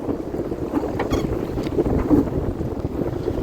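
Steady wind buffeting the microphone with a low, continuous rumble, out at sea on a fishing trip, with cold wind blowing.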